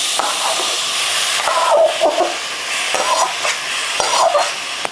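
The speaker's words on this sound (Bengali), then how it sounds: "এখন চুলাটা জ্বালিয়ে একটা কড়াই বসিয়ে দিলাম, আর মেখে রাখা নারকেলটা দিয়ে দিচ্ছি।" Grated coconut stirred in a hot karai on a lit stove, a steady close hiss of cooking with repeated scraping strokes of a spoon against the pan.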